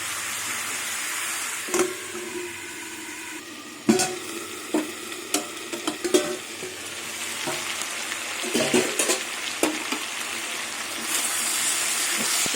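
Drumstick, pumpkin and potato vegetables stir-fried in a pan, a steady close sizzle broken by repeated scraping strokes of a spatula throughout, with no talk.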